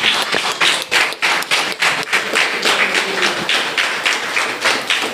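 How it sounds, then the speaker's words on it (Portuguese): A church congregation bursts into a round of clapping for Jesus during an evening service, many hands beating in quick, fairly steady rhythm that stays loud and close for several seconds, with no talking over it. "Dê uma salva de palmas para Jesus nesta noite."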